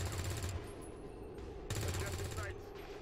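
Automatic weapon fire in the strategy game XCOM 2 with the Long War 2 mod, two dense rattling bursts of gunfire, loud and close, separated by a brief lull.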